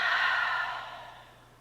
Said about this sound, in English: And another deep breath.